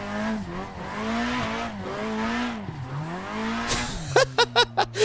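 A race car in the Assetto Corsa sim is driven around a drift track, its engine droning and rising and falling with throttle changes, then a series of short revs in quick succession at the end.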